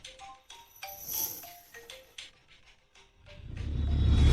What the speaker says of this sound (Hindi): झांग वेंजोंग का फोन है